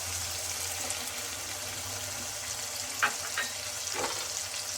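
Chopped tomato and fish frying in a pan, a steady hiss of oil with a few brief scraping stirs near the end, close and fairly quiet.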